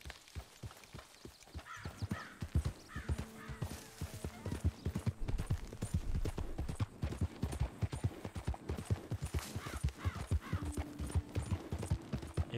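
Steady rhythmic clip-clop of horse hooves trotting along in the video game Red Dead Redemption 2, with occasional caw-like bird calls and faint ambient sounds in the background.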